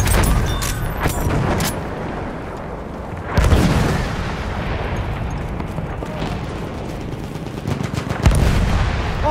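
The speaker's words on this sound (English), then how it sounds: "Artillery battery, be careful!" Rapid gunfire and heavy booming blasts of artillery in a Battlefield 1 Conquest match on Heligoland Bight, loud and continuous with bursts of shots and deep impacts.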